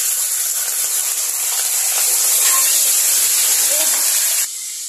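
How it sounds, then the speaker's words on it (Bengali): Sour yogurt hits hot oil in a pan already holding a bay leaf and dried chilli, making a loud, steady sizzling hiss up close that stops abruptly near the end. "তেলটা গরম হয়ে গেছে। এবার আমি এর মধ্যে দিয়ে দিচ্ছি একটুখানি টক দই"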